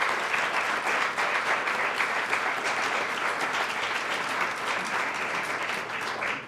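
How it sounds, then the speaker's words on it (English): Audience at a Martin Luther King Jr. scholarship reception in Meadville applauding steadily and loudly for about six seconds, a dense even wash of clapping from a full room. "Could you give them a round of applause?"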